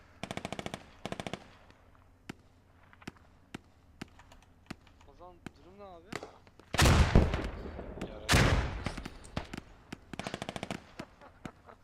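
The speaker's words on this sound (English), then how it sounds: "You can hear a lot of bullets shooting." Video game match gunfire: rapid automatic bursts and single shots crackle in short clusters, then two loud, heavy blasts dominate the middle before more quick bursts return near the end.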